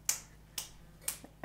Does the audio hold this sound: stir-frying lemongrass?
no